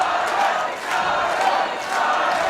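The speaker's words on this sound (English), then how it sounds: "There's the crowd getting behind Charlie as Sparky Ballard starts his count" A pro wrestling crowd roars and cheers loudly for a wrestler as the referee counts, the noise sustained and surging through the whole moment.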